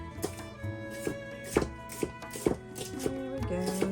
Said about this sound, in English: Chopping, chopping.